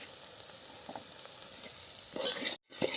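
Mustard seeds and spice masala fry in hot oil in a home kitchen pan, a steady quiet sizzle with a few soft stirring scrapes that swell briefly near the end before a short dropout, with no talk.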